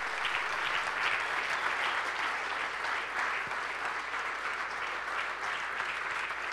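Steady, sustained applause from an audience at an athletics award ceremony honouring the veteran athlete of the year, a dense even wash of clapping heard from a moderate distance without talk.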